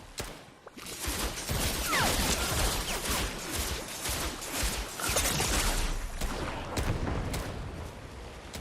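Rapid gunfire from a Fortnite match with a sniper in play, dense volleys and repeated sharp cracks sustained loudly throughout, close up with no talk.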